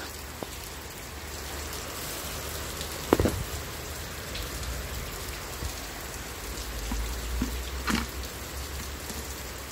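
Steady rain patters on a garden bed where seedlings have just been planted, a continuous soft hiss with a few louder drops and knocks standing out.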